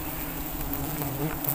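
Giant honey bees (Apis dorsata) swarm around their nest, making a dense, continuous buzzing drone at close range with no pauses.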